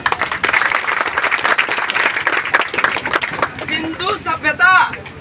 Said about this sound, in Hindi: मैं चाहूंगा मेरे समाज के लिए एक बार जोरदार तालियां बजाएं